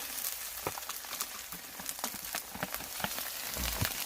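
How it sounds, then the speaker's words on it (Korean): Rice stir-fried into fried rice in a pan while camping, giving a steady close sizzle with scattered crackles and spatters throughout, the scrape of stirring audible and no talk over it. "아, 밥 넣고 볶는 거야?"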